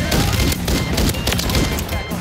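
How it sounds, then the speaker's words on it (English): Rapid fire-shotgun blasts in the video game Warzone, loud and dense with overlapping booming shots, while voices talk over the gunfire throughout. "Using a fire shotgun."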